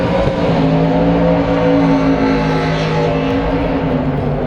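Cars revving near the drift pad at the SEMA 2023 outdoor showcase: a loud, continuous engine drone with steady low harmonics that shift slightly in pitch, close by and unbroken for several seconds, with no talk over it.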